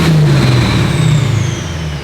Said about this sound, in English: I want to hear it rev up inside the warehouse